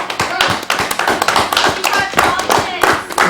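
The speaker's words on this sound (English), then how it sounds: "if we get a round of applause from the audience" A live audience at a mock presidential debate event gives a round of applause, dense hand claps filling the room steadily and fairly loud, with a few voices mixed in.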